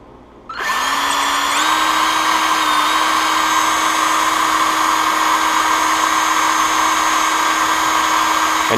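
Power drill spinning up and running steadily with a pinewood derby wheel being polished, a loud close high-pitched whine that starts abruptly and holds an even tone without pause.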